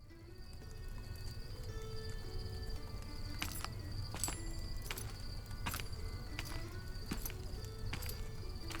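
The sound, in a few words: horses walking, hooves clopping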